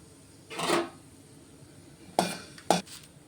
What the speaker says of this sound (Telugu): ఇప్పుడు కొంచెం పల్లీలు వేసుకుందామండి పల్లీలు తీసుకున్నాను కదా పల్లీలు వేసుకున్నాను